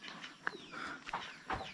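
Chickens cluck near a hen house in a remote hill village where pigs are also kept, giving a few short, fairly close calls over soft outdoor background noise.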